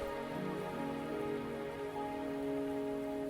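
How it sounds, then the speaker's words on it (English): Rain pours steadily in the video game Wuthering Waves, a continuous soft patter over a sustained musical drone, with no voices. "Are you trapped here by the rain?"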